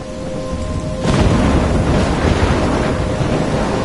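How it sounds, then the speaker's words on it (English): A video game thunderstorm with rain: a rolling thunder rumble breaks in abruptly and then sustains as heavy, loud, broadband rain and wind noise filling the scene, with no voices. "I'm trapped in a storm?"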